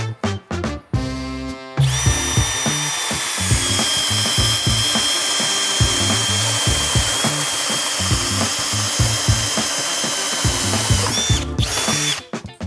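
A Harbor Freight drill driver bores into wood: a few short trigger bursts, then a loud, steady, high motor whine held for about ten seconds before stopping and giving a couple of final quick pulses.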